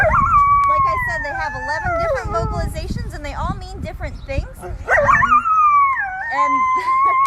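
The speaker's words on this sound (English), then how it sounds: "the howl she's doing right now is kind of a contact" A coyote howls in long rising and falling wavering tones, repeated through the clip, heard close and fairly loud, with someone talking over parts of it.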